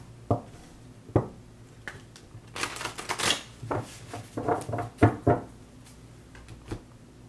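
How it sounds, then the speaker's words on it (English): Oracle cards being shuffled by hand, with a few sharp isolated taps early on, then a flurry of quick riffling clicks and slaps mid-way and scattered light knocks afterward, close and fairly quiet. "a couple more shuffles here"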